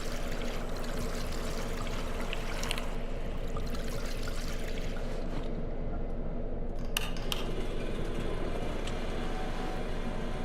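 Gasoline poured into a generator in the horror game Darkwood, a continuous gurgling, trickling pour that runs steadily throughout, close and fairly loud over a low ambient rumble, without speech.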